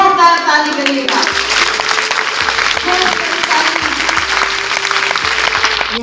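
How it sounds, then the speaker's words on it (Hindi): Audience clapping at a university talent hunt competition, a dense, loud burst of applause that swells after a sung opening and continues steadily, with voices and cheers mixed in. "उनका एक जोरदार ताली करिएगा।"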